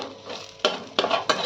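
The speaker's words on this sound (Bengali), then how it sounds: "পেঁয়াজগুলো লাল লাল করে ভেজে নিতে হবে।" Onions frying in a pan, browning until red, with a steady sizzle broken by three sharp scraping strokes of a spoon stirring against the pan, close and clear with no voices.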